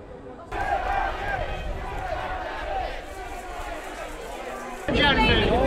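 Protest crowd in Nottingham facing counter-protesters, heard as a steady outdoor babble of many voices with scattered shouts, growing louder near the end.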